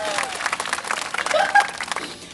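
A small group of people clap to welcome a guest, a brief, close, uneven burst of applause lasting around two seconds with a voice briefly audible over it.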